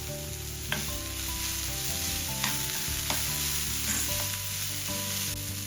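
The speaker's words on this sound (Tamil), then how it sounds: "வெங்காயம் ஒரு அளவு வதங்கினதும் இதுக்குள்ள நான் இடிச்சு வச்சிருக்கிற இஞ்சி உள்ளி பெருஞ்சீரக கலவையை நான் போட போறேன்" Crushed ginger, garlic and fennel mix tipped into onions frying in a pan and stirred, a steady close sizzle broken by a few sharp utensil clinks and scrapes.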